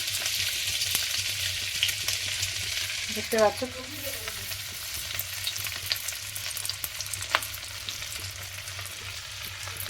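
Steady hissing sizzle of grated ginger frying in hot ghee in a wok, continuous and close, with a brief spoken remark over it.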